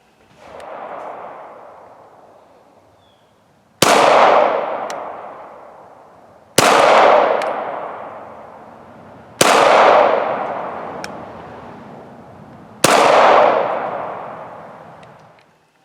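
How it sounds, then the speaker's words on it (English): Five sharp, loud 9mm pistol shots of reloaded rounds fired through a chronograph, each a sudden crack with a long decaying echo, spaced about three seconds apart with no talk. "So now let's get a 5-shot group through the chronograph and see what our average speeds were."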